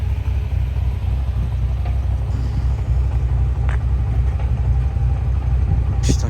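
Ferrari engine idling close by, a steady deep rumble with a few faint clicks and knocks on top and no talking over it.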